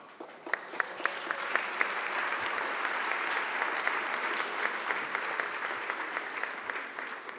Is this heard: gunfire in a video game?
no